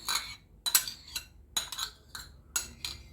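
Repeated clinks and scrapes of a spoon against a bowl come in irregular bursts, close and fairly quiet, as a bean and tuna salad with sour cream is stirred and tossed.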